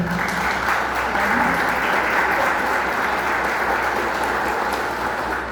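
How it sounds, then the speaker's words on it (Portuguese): Steady, dense applause from an audience at a business talk on artificial intelligence and communication, loud and continuous for several seconds with no one speaking over it. "Uma salva de palmas aqui para você."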